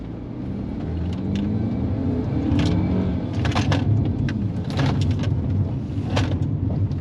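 A car on Continental UC7 tires runs a slalom course, giving a steady, close rumble of engine and road noise with tire scrubbing swelling and fading through each turn.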